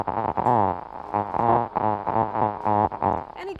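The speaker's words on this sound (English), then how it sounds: "they make a buzzing sound. And that buzzing sound becomes the source of speech." A muffled, buzzy voiced hum of vocal fold buzzing recorded from the throat, rising and falling in speech-like bursts, its words unintelligible, steady and close for a few seconds.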